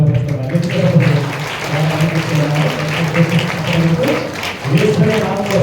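A church congregation at a Telugu Christian feast-day and New Year Mass claps loudly together, a dense, continuous wash of applause mixed with voices and a musical drone.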